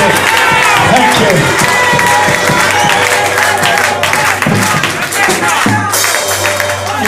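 A church congregation claps and cheers loudly throughout, a dense mix of applause and shouts with voices calling out over it.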